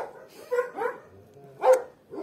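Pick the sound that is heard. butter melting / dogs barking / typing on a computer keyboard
dogs barking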